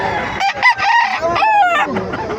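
A rooster crows loudly and close at a chicken market in Bocaue, one drawn-out crow with clucking and other fowl sounds around it.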